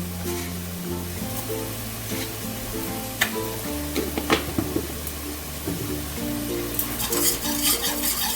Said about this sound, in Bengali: একটু কয়েক সেকেন্ড একটু নেড়ে নেব